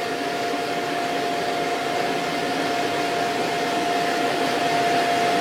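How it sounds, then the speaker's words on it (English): Steady loud roaring whoosh of an air blower feeding a propane-fired metal casting furnace, continuous and even throughout with a faint tonal hum running underneath. "Turn the blower off."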